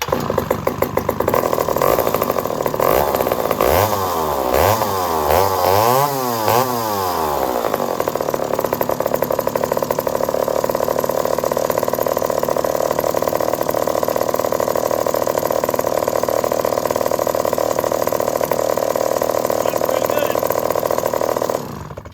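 A vintage McCulloch 55 gear-drive chainsaw, hot from running, fires back up and revs with rising and falling engine pitch before settling into a loud, steady roar close by, while a voice talks over it.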